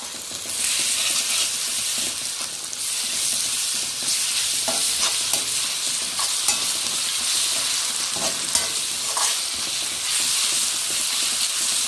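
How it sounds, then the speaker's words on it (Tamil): Ginger garlic paste sizzles and hisses steadily in a hot pan while being sautéed for chilli prawns, with occasional soft stirring scrapes over the continuous frying. "இஞ்சி பூண்டு பேஸ்ட் போட்டதுக்கப்புறம் கொஞ்சம் நல்லா வதக்கிக்கோங்க"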